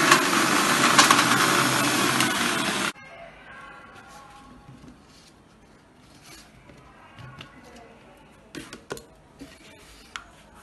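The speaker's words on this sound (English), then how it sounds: "I'm going to start using the mixer grinder" A mixer grinder blends a chocolate shake with milk, a loud dense whirring roar for about three seconds that cuts off abruptly, followed by quiet room sounds and a few faint knocks.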